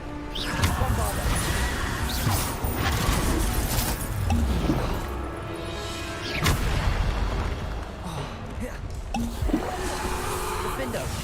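Bombarda spell blasts in the Hogwarts Legacy video game, a run of loud booming explosions with crashing debris during a busy magical duel, layered over dense combat effects and a voice speaking.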